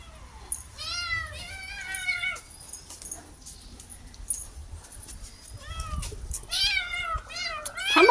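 Several cats meow repeatedly, loud and close, in bursts of overlapping cries with brief pauses, some rising into insistent wails, as they wait to be fed rice.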